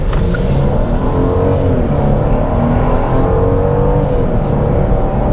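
A 2022 Genesis GV70 3.5T AWD SUV engine drones loudly and steadily from inside the cabin, rising in pitch as it accelerates, with a constant low rumble throughout.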